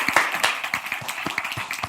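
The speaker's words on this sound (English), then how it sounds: "Clap it up, baby." Audience clapping for JD con su flow at a live introduction, a brisk, close patter of hand claps with loose, uneven rhythm and no voices over it.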